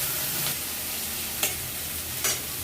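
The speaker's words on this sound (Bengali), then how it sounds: "একদম ভালোভাবে পেঁয়াজটা আমাকে ফ্রাই করে নিতে হবে।" Onions frying and being stirred in a pan for chicken biryani: a steady close sizzle with three short scraping stirs spaced about a second apart, and no talking.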